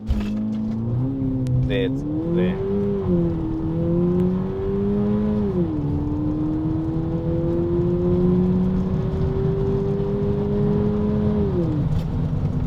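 2024 VW Polo GTI pulling away under launch control, the engine's tone rising and holding as it accelerates through the gears heard from inside the car, with someone speaking briefly at the start.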